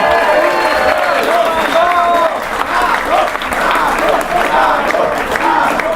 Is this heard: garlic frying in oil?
no